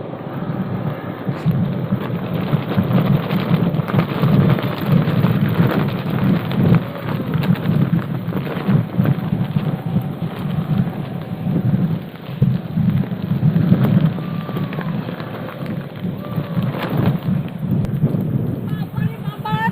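Heavy rain pours steadily during a thunderstorm at a riverside fishing spot, a dense roar with low rumbling beneath, while a voice talks through the downpour.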